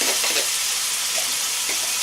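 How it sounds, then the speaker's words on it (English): Baked beans poured into a hot pan, their liquid sizzling and deglazing it at once, a steady close frying hiss with soft bubbling spits throughout, no voices. "that's the liquid in the beans starts to deglaze the pan straight away"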